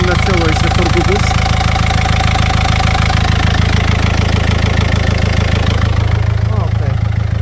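A Renault Megane mk2 1.5 dCi diesel with about 238k miles runs steadily, a loud, close, rattly idle with a clattering knock and a suspected turbo boost leak, with a voice talking over it.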